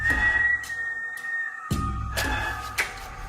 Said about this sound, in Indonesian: Kayak ada yang siul.